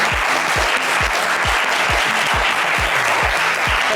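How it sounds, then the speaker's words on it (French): A studio audience at a French game show breaks into dense, continuous applause, a full crowd roar of clapping with a steady low rhythmic beat underneath. "on va applaudir très, très fort Narcisse"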